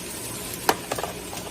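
Tomatoes and green onion sizzle softly in a hot pan for an Indian-style chicken curry, with a steady frying hiss, a sharp clack of a utensil, and a few lighter stirring taps.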